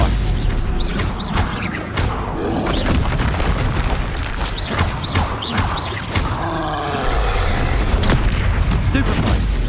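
Confringo fire-blast spells exploding in combat in the game Hogwarts Legacy, with repeated loud booms and bursts in a dense, continuous battle mix, with shouted voices over the blasts.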